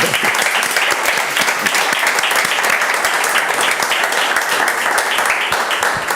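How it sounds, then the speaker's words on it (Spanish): Sustained audience applause at a panel discussion on international markets and Asturian businesses, steady dense clapping filling the full stretch at an even level, with no voices over it. "aplaudir."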